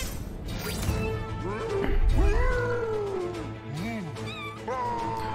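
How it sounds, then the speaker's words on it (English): Cartoon cat sounds: several wavering meows and yowls in quick succession, loud and close, with a crash-like burst and some overlapping voices in an animated scene. "He's got a cat."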